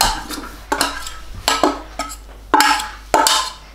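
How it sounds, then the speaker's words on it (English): Butter dropped into a mixing bowl while making children's cupcakes, heard as a series of sharp clinks and knocks of utensil against bowl, roughly six distinct impacts spread unevenly, close and fairly loud with no talking. "We're going to put this butter in this bowl."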